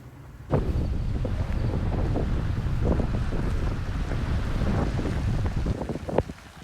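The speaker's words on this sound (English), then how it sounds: "First river crossing in the taco." A Toyota Tacoma pickup fords the James River in Texas, its tires pushing through water in a steady, loud rushing wash with splashes and gusty wind buffeting close to the microphone.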